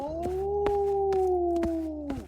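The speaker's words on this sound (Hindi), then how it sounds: "भेड़िया जोर से दहाड़ता है" Cartoon wolf howling loudly in a long, sustained rising-and-falling tone lasting about two seconds, alone and close, with a few sharp clicks layered over it.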